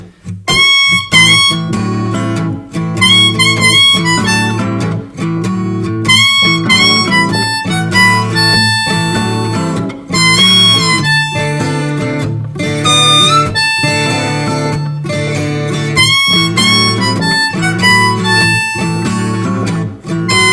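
A harmonica wails a 12-bar blues in A in first position over a full backing band with bass and drums, loud and continuous, bent notes and chordal stabs repeating in a steady shuffle.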